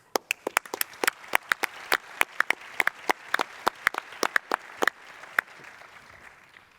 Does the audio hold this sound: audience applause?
yes